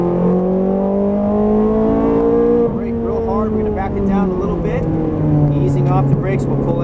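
A Ferrari F430 Scuderia on a race track drones loudly from inside the cabin, its engine pitch sliding steadily downward as it brakes and slows, with someone talking throughout.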